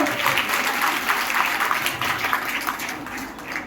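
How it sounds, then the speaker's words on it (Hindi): Audience applause for a guru at a satsang gathering in an Agrawal satsang hall, a moderate, fairly steady wash of clapping that fades slightly toward the end. "आज तो जोर से एक बार तालियां लगाएं गुरु जी के लिए"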